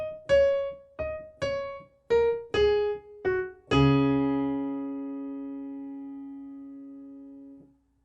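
Piano playing the chorus melody of a Hindi film song from Dil Apna Aur Preet Parai: seven clear notes in a short-long rhythm, the last a low chord left to ring and fade for about four seconds, no talking.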